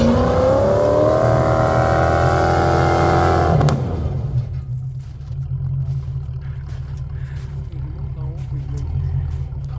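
A Land Rover on portal axles, running in three-wheel drive on an icy off-road trail, revs hard and loud up close with a straining engine whine, then drops to a lower, rougher idle rumble.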